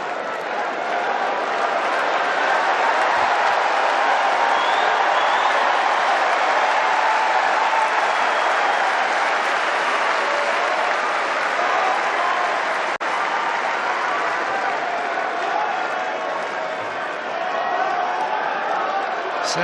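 A capacity Wimbledon crowd applauds in a loud, sustained wash of clapping at a semifinal tennis match. The ovation fills the whole stretch at an even level, with a commentator's voice faintly underneath.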